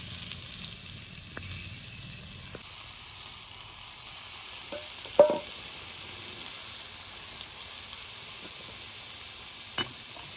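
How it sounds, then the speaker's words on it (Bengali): Eggplant slices fry quietly in a pan with a soft, steady sizzle, broken by a few brief clicks and scrapes of a utensil. "বেগুনটা একটু হালকা ভাজা ভাজাও হবে"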